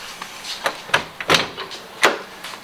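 A VW car door is unlatched and opened, a quick series of sharp clicks and clunks near the listener, with one solid thud near the end.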